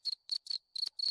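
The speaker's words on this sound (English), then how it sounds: "If not, there's a cricket." A cricket chirping sound effect played from a Discord soundboard gives five quick, clean, evenly spaced bursts of high chirps, loud and alone.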